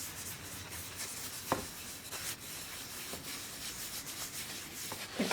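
Close, quiet rubbing of wet paint off a canvas, a soft continuous scrubbing texture with a few light taps and scrapes and no talk.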